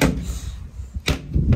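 A van's storage drawer in a 2015 Renault Trafic slides along its runners with a soft rumble, followed by a brief knock as it stops, close and fairly loud.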